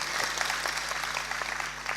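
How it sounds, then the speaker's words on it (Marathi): A crowd at a Marathi kirtan claps steadily to welcome a guest, a soft continuous patter of many hands heard at a distance over a low hum. "टाळी वाजवून त्यांचं स्वागत करा"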